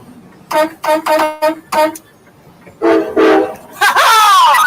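A CSX train horn blares in a string of short honks, then longer blasts, loud and fairly close, ending in a sustained sweeping tone.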